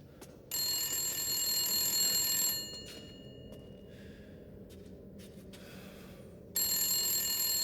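A telephone rings in Resident Evil Village, a bright, steady electronic trill heard in two long bursts separated by a quiet pause, clear against a low room hum with no talking.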